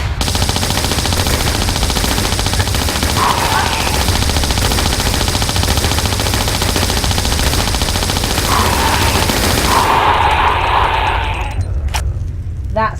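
Sustained rapid gunfire aimed at a giant scorpion in a Tomb Raider custom level set in Lara's mansion, a dense continuous rattle of shots filling the whole stretch at a loud, steady level, with a brief pause and a few isolated reports near the end.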